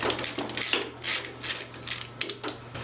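A wrench works the 13mm clamp nut behind a car distributor, giving a series of sharp metallic ratcheting clicks in short bursts. The clicks come up close, with a faint low hum underneath.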